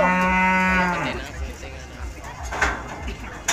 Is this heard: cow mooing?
yes